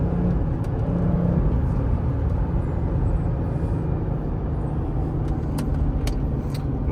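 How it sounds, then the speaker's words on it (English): A 2009 Porsche Cayenne engine hums steadily up close, with a slight lift in pitch early on and otherwise an even, continuous drone. "Giving it a little rev here."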